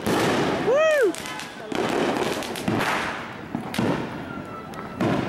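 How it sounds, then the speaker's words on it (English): Big 4th of July fireworks burst and crackle in a series of loud, sharp blasts close by outdoors, with a whistling rocket early on and people talking between the bangs. "Guys, it's only big fireworks out here."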